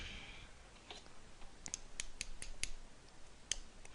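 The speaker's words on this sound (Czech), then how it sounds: "Abych se ho neustřihl s těma nůžkama" Scissors snip several times in quick, sharp clicks, close and clear over faint background noise.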